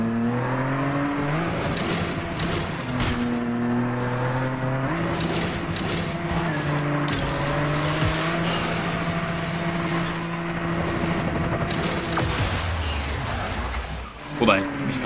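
Racing car engines in the video game Asphalt Legends: Unite, a continuous loud roar with shifting pitch as cars rev and change gear, steady throughout with a brief surge near the end.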